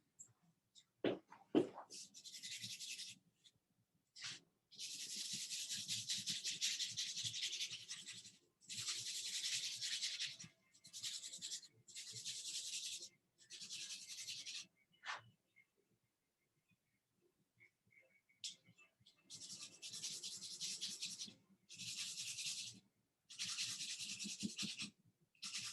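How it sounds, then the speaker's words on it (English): Sandpaper rubbed across a figure drawing of a standing male nude in repeated bursts of scratchy strokes, each lasting a few seconds with short pauses between, close and fairly loud with no talk. "So I'm going to go to the sandpaper again."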